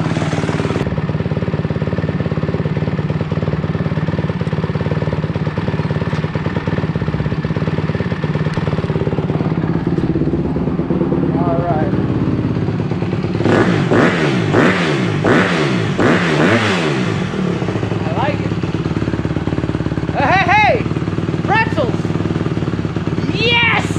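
A Honda CRF150R dirt bike engine, being tuned during carburetor work in a shop, idles loudly and steadily, then rises through several quick throttle revs before settling, with voices talking over it.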